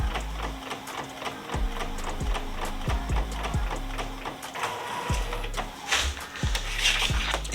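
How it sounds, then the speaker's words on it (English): An inkjet printer runs off a sheet of stickers for Cricut print-then-cut, its print head shuttling back and forth in a steady whirring rhythm with regular mechanical clunks and swooping motor tones, loud and close with no talking. "here's what it should look like coming out of your printer"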